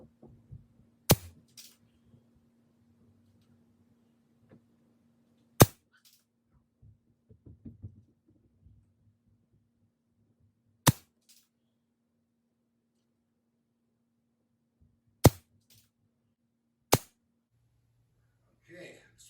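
A Benjamin Discovery air rifle fires pellets in five sharp, isolated cracks spread over about twenty seconds, with faint handling noises between the shots.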